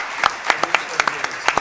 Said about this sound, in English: Can you join me one more time in a round of applause for our panel one?